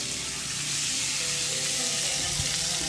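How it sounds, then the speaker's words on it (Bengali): Live fish frying in hot oil in a home kitchen, a loud continuous sizzle and crackle that holds steady from start to finish with no talking. "জ্যান্ত মাছ ভাজা খুব সমস্যা"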